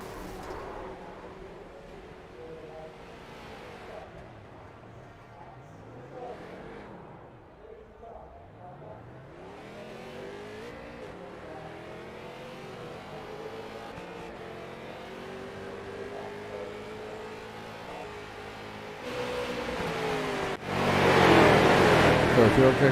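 Street stock cars circling a track under race commentary, engines droning and shifting pitch as they pass, building to a loud close roar at the finish.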